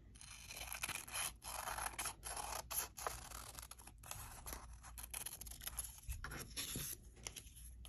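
Scissors cutting a vase shape out of paper for a folk art flower collage, a close, quiet run of snipping and scraping blade strokes with short pauses between cuts, no voices.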